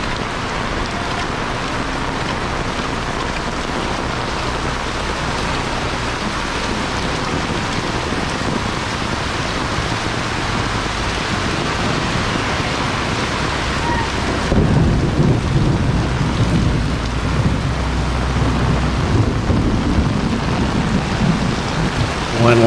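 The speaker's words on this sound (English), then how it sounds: "There's so much rain, it's like a mist all around you." Heavy tropical storm rain pours down on Jaco, Costa Rica, a dense, continuous roar of rainfall on surfaces with steady spatter and some wind, loud and unbroken throughout, growing slightly heavier partway through.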